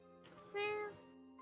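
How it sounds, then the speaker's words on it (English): A cat gives a single short meow during a tabletop Dungeons and Dragons session, faint and alone in a quiet room. "Cat."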